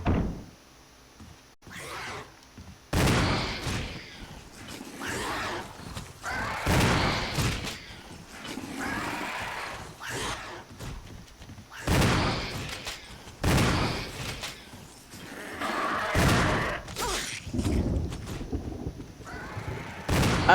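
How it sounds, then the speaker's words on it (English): Heavy shotgun blasts in the Resident Evil REmake game, a series of loud, booming single shots spaced a second or two apart with quieter gaps between. "Yes, I know that shotgun very well"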